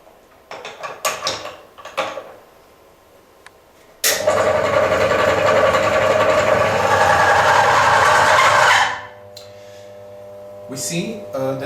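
A friction test machine runs dry with no lubricant, a loud steady mechanical whir and grinding drone holding for several seconds before cutting off, framed by scattered clicks and handling noises.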